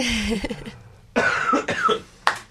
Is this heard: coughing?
yes